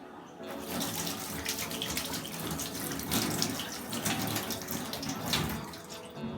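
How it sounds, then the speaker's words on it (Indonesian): Hands are washed with soap under a running tap, a steady splashing stream of faucet water broken by the shifting patter of hands moving through it. "Langkah selanjutnya adalah mencuci tangan menggunakan sabun dan air mengalir."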